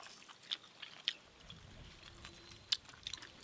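Someone chews mutton curry close to the microphone, with quiet wet mouth sounds and a few sharp little clicks spread over a few seconds.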